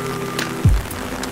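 Steady rain falls during a sightseeing boat outing at Oboke gorge, a constant close hiss of drops on surfaces with one brief low thump midway, and no voices.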